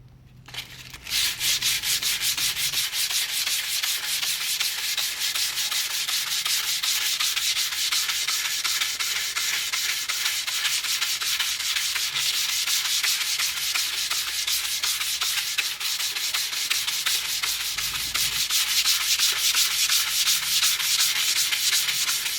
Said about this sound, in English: Sand off the little bits of filler there is and get a little bit extra in the little spots we need to